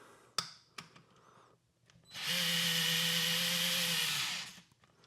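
A DeWalt 66719 electric screwdriver set to torque level 6 drives a screw. A couple of sharp clicks come first, then one loud, close, steady motor whir of about two seconds that cuts off cleanly.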